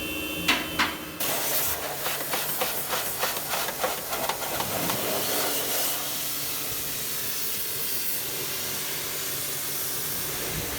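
A pressurised spray rinses car parts at a paint shop, opening with a few sharp bursts before settling into a loud, steady hiss.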